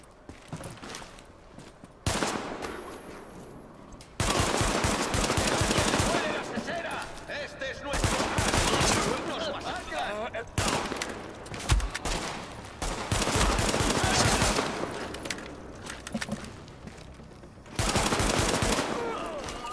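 Bursts of gunfire in The Division during a police station siege prologue, loud rapid volleys and automatic fire in repeated clusters with brief lulls between, close and dense throughout.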